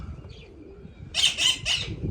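Pigeons freshly released from their loft give soft coos, then a burst of wing flapping and scuffling takes over in several loud, close bursts.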